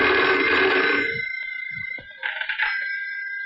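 A telephone bell rings loudly and steadily for about a second, then stops, followed by a few quiet clicks and another short burst of ringing, heard alone without talk.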